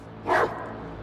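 A dog in the Rogue Trader video game gives a single short, close bark over a low background hum.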